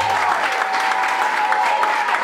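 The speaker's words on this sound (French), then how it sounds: "On l'applaudit très fort pour le mari." Guests at a French civil wedding ceremony applaud the groom, a short, loud burst of close clapping from a small crowd that continues without a break.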